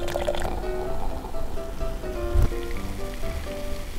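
Duchess lemonade is poured into a glass in a steady, fizzy liquid stream with bubbling, under faint background sound.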